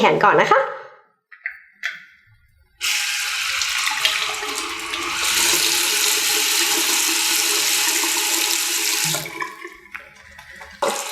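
Tap water running while an arm is washed with Asepso soap: a few splashes and short bursts at first, then a steady loud rush of flowing water for several seconds that tails off into more splashing.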